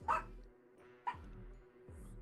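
Two or three sharp dog barks, spaced about a second apart and fairly close. Each bark is followed by a short whimper or yip, and the rest is a quiet room.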